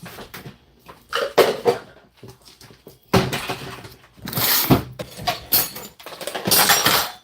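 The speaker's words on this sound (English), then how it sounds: "came in straight putting up dishes" Dishes and kitchenware clink and knock as they are put away, in irregular bursts of clatter with cupboard-like thumps and brief rustling, fairly close.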